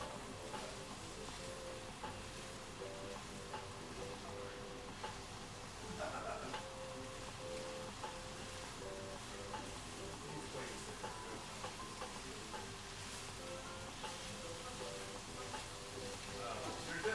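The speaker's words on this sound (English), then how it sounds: "Turn this back up and stir my onions." Onions fry in a pan with a steady low sizzle and occasional scraping stirs, faint and continuous under kitchen background noise and some talk.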